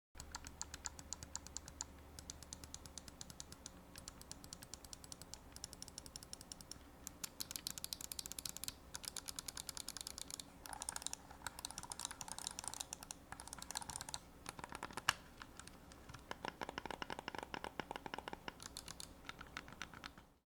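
Clicky micro switch buttons on a BM63 Pro controller are pressed in rapid, irregular bursts very close to the mic, a steady patter of sharp clicks throughout with no talking.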